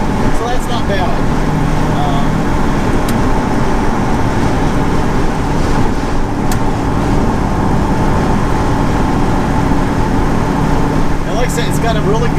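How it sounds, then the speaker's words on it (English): A 1967 Chevrolet Camaro with an LS6 engine cruises at about 65 mph near 2,200 RPM, giving a steady low engine drone with road rumble inside the cabin throughout. "it's got a really good engine noise, not a lot of wind noise"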